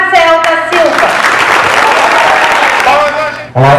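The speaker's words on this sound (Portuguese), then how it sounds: "Uma salva de palmas para o professor Marcel da Silva." An audience at a school applauds a teacher in a short burst of clapping. Voices can be heard at the start and end, and the clapping fills the middle.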